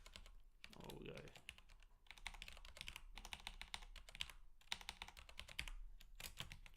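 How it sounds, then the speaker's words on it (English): Quiet, rapid typing on a computer keyboard, with uneven bursts of key clicks and brief pauses between them. "atrocious typing"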